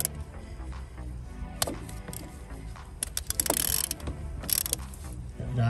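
A ratchet tightens gearbox nuts on a Skoda Fabia, giving quick bursts of close metallic clicking in uneven spurts with short pauses between them.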